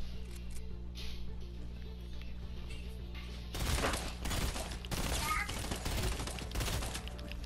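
Rapid gunfire from a horror shooter video game breaks in halfway through, a dense run of sharp cracks and thuds, after a quieter stretch of low game hum.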